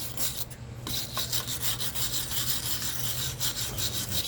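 Steady, close rasping scrub on the front suspension spindle of a 1976 Cutlass four-door during a front end rebuild, continuous strokes with a brief pause near the start, no talking.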